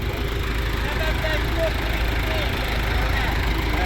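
An MTZ-82 tractor engine runs at a steady low rumble throughout, close and continuous, with a faint whine riding over it.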